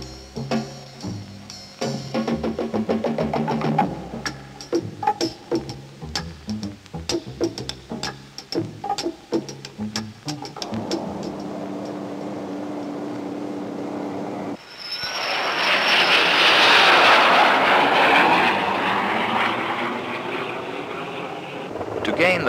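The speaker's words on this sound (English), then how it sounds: "does the engine run and perform as it should do?" An engine is run on a test bed in 1969. It starts with rapid, loud firing pulses that settle into a steadier drone, and then it swells into a loud, broad roar that continues to the end.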